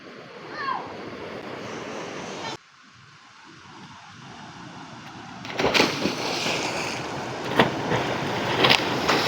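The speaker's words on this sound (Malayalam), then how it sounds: "ചീപ്പിൽ നിന്നും തുറന്നു വിട്ടിരിക്കുന്ന വെള്ളമാണ് ഇതാ ഇവിടെ ആയിട്ട് ഇങ്ങനെ ഒഴുകി പോകുന്നത്." Water released from an opened sluice gate on a small dam rushes and flows steadily, a broad near roar that grows louder and brighter in the second half, with wind buffeting the microphone.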